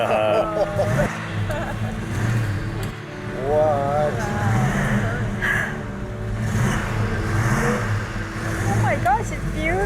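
A 1970 Plymouth Road Runner engine runs with a steady low rumble and occasional swells in revs, heard close under excited voices talking throughout.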